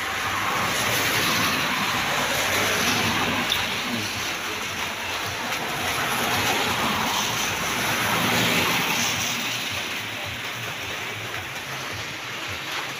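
Heavy rain pours outdoors during a barefoot run, a dense, steady roaring hiss that fills the scene without letup, loud and close, with no talking.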